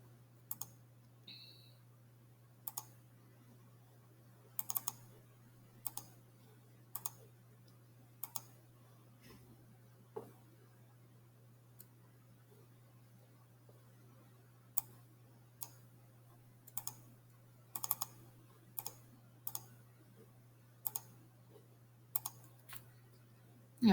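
Typing on a computer keyboard comes as sparse, scattered clicks and short bursts of keystrokes, fairly close and dry, over a faint steady electrical hum, with no talk.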